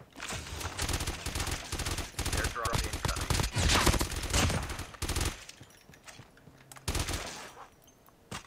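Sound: gunfire in video game Call of Duty: Mobile

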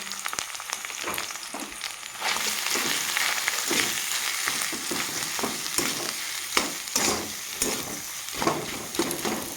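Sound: potato frying with spices in a pan

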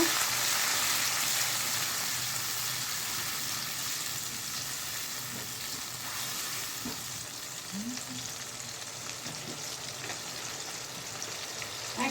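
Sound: frying spice paste with garlic paste and water

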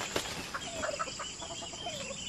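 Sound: chickens on a farm in the Philippines

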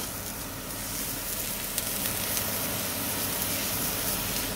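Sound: beef patty frying in a pan

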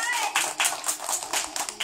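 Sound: children clapping

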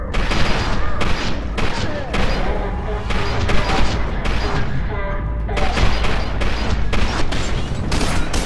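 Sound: gunfire in the video game FEAR 2

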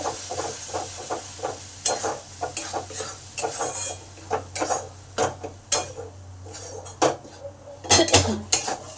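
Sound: stirring and frying onion, tomato and ginger paste in a pan

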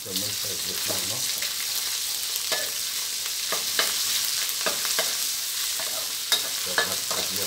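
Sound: stir-frying garlic and curry paste in a pan

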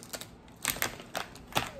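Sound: scissors cutting plastic packaging

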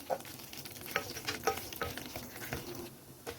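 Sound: nuts and raisins frying in ghee

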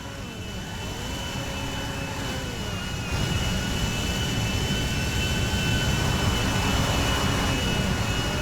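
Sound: large airplane jet engine in GTA 5 video game

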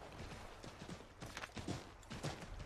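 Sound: horse hooves in Assassin's Creed III, video game

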